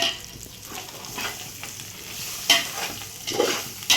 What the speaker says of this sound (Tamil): மிளகாத்தூள் சேர்த்துட்டு நல்லா மிக்ஸ் பண்ணி விட்டுக்கலாம் ஃப்ரெண்ட்ஸ்